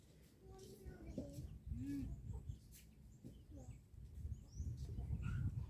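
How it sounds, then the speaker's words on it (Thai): Chickens clucking at a rural Thai home in November, with occasional bird calls over a noisy outdoor background and a few nearby voices. "นี่ก็ไก่"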